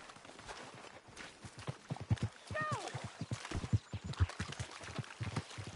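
Horse hooves clip-clop in the Red Dead Redemption video game: a steady run of soft, rhythmic hoofbeats, fairly faint, with a brief vocal sound partway through.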